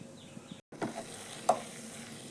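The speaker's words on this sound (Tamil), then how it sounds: "வெண்டைக்காய் சூப்பராக வதங்கிடுச்சிங்களா?" Okra (ladies' finger) sautéing in a pan at home: a soft continuous sizzle with a brief dropout, then a few scraping stirs and one sharper clink, faint and close, with no voices.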